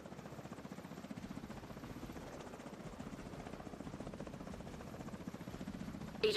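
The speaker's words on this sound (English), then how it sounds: "Helicopter sounds." A video game helicopter thrums steadily with a fast, even rotor chop, loud and close throughout, with a brief sharper sound at the very end.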